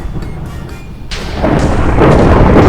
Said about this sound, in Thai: ไม่อะไรอะฟ้าผ่าตอนฟ้าผ่าตอนเช้าเนี่ยนะ